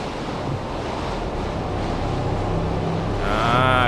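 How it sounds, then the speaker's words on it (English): Strong wind blows steadily in a survival video game, a dense roaring rush that swells louder toward the end, with no voices. "Crafty wind!"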